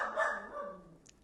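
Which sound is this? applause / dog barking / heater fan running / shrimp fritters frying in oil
dog barking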